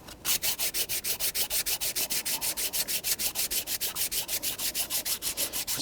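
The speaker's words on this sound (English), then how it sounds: "I'll get my sanding block back again" Rapid, regular back-and-forth rubbing of a sanding block on a corroded aluminum intake surface of a 1.8L Toyota Corolla engine, about five strokes a second, close and steady with no talking.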